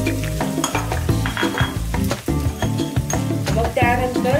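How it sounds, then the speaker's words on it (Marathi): Chopped onion frying in hot oil for a tempering, a busy sizzle with stirring and utensil clatter, close up, mixed with music in the background. "तेल गरम झालेले आहे तर आपण आता याच्यात चिरलेला कांदा ओतूया फोडणीसाठी"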